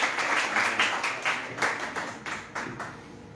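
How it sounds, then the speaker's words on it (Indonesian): A church congregation at a Sunday service claps in unison, a rhythmic burst of applause with regular beats that fades slightly over a few seconds. "Berikan tepuk tangan sekali lagi buat Yesus."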